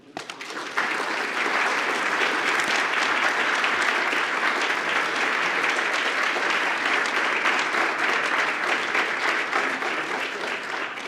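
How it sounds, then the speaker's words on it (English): An audience at a legal forum on access to justice breaks into sustained, even applause that starts abruptly and fills the room for about ten seconds. "Let's give Chief Judge another round of applause for those"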